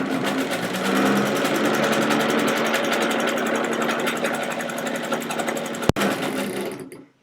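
A Kenmore Model 83 pulley-drive sewing machine runs at a steady hum with fast rhythmic clatter, loud and close, briefly interrupted by a sharp click near the end before winding down.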